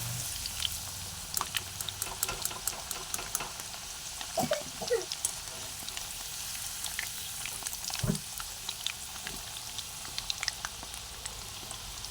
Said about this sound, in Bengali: আলুটা আমরা একটু লাল করে লাল ব্রাউন করে আমরা ভেজে নেবো